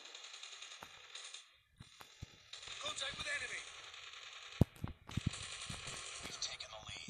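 Rapid automatic gunfire and sharp mechanical clicks from Call of Duty Mobile gameplay, arriving in bursts amid game sounds, with someone talking in between.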